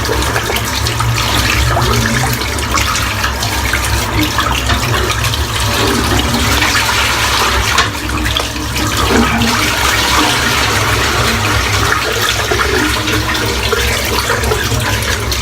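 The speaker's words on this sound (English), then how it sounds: "Rinse the brush out." Tap water runs hard and continuously while a paintbrush is rinsed out, a loud, close, unbroken gush with no pauses.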